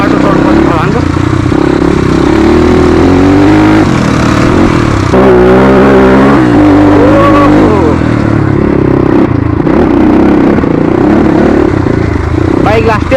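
A Suzuki RM250 dirt bike engine revs and labours on an off-road trail in Nepal, loud and close throughout, rising and falling in pitch with the throttle, while a rider talks over it.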